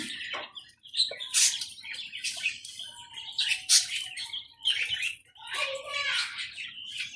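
Quail in a pen chirp and tweet in quick bright bursts, several birds close by, with a person's voice now and then.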